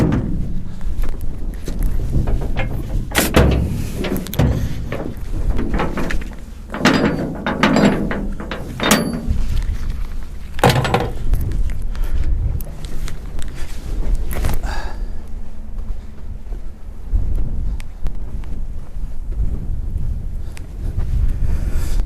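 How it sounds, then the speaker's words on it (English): Heavy wind buffeting a microphone outdoors, a steady low roar with gusty rumbles throughout, plus a few scattered knocks and clatters. "I apologize ahead of time for the wind. It is a bit windy out here today."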